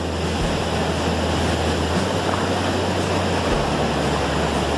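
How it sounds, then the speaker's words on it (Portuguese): Steady roaring rush of the Salto do Rio Bonito waterfall in Juti, Mato Grosso do Sul, a dense continuous wash of falling water filling the scene with no voices. "E olha só essa cachoeira, esse barulho."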